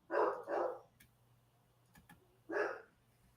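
A dog barks indoors in two quick loud barks, then a pause with faint ticking before a third bark, close to the microphone.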